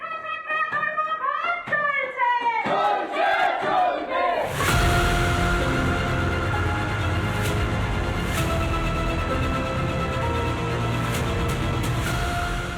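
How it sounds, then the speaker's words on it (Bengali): Student protesters shouting slogans while picketing outside the gate of Jadavpur University during a strike: a voice leads with chanted calls, then a loud, dense crowd roars and shouts continuously, close and sustained. "ক্যাম্পাসের বাইরে পিকেটিং স্লোগান"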